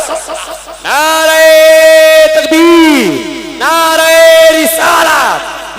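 A large crowd at an Islamic Urs gathering roars back a religious slogan in two long, loud unison shouts after a leader's call, echoing through an amplified outdoor space.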